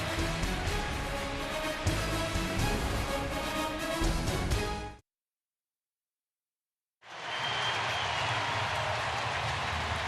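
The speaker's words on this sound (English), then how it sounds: "you hear the applause for Jose Altuve" A ballpark crowd at a Houston Astros and Chicago White Sox game applauds Jose Altuve, a dense wash of clapping that cuts out for about two seconds, then resumes at full strength.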